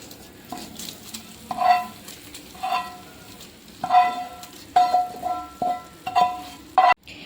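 Browned fried onions being stirred into Kochi-style potty curry, giving a series of close, distinct scraping and clattering strokes of a spoon against the pot over a soft sizzle, with no voices.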